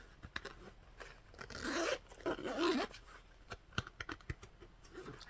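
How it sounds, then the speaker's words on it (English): A zipper pocket on a handbag is pulled open and shut, giving several bursts of rasping zip noise mixed with light handling clicks and rustles, close and fairly quiet, with no talking. "I think I just keep zipping it up."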